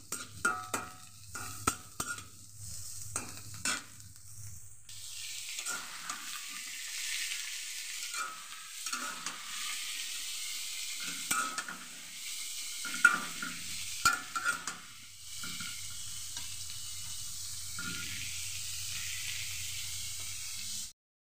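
Ingredients including rice, garlic, onion and turmeric are stir-fried in a pan for a Bangladeshi dish, giving a steady, moderately close sizzle. Stirring and scraping rises and falls across the stretch, with no talking.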